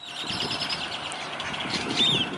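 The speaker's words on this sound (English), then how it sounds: "it's that time of year when hordes of noisy grackles show up everywhere" Great-tailed grackles calling in a noisy flock, a continuous wash of overlapping chirps and whistles with a sharp rising squeal near the end, heard at moderate volume.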